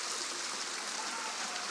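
A river flows at a crossing point with a steady, hissing wash of moving water at moderate distance, continuous and without speech.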